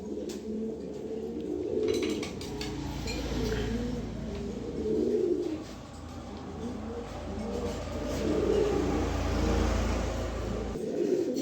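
A pair of racer pigeons, a male and a female, set loose on a floor coo in low, rolling bursts that rise and fall through the whole stretch, close by, with faint background clatter.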